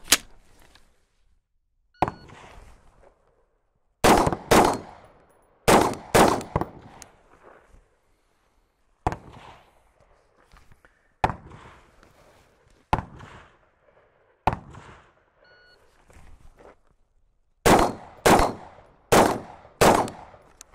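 Remington 700P rifle fired at an outdoor shooting range: loud, sharp cracks with short echoing tails, coming singly and in quick clusters with quiet gaps between.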